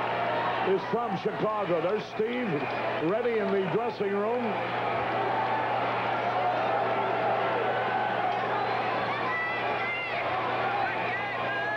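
A baseball stadium crowd at a 1984 Cubs at Pirates game keeps up a dense, continuous roar, while a commentator talks over the first few seconds before the crowd noise carries on alone.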